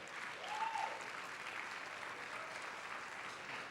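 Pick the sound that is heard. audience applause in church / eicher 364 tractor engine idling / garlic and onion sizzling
audience applause in church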